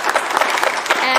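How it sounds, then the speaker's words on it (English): An audience claps for a group of speakers, a brief burst of fairly close applause with crisp individual claps and some voices mixed in. "give a huge round of applause for all of our speakers"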